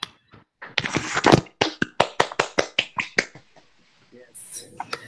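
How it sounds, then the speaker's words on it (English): A small group claps in appreciation at an International Yoga Day session, a run of sharp, evenly spaced claps that sounds thin and sparse, as from a few hands. Talk is heard before it and faint voices after it. "We will give a good clap for Sumaka for doing this."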